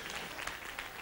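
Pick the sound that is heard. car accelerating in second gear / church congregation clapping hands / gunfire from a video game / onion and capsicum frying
church congregation clapping hands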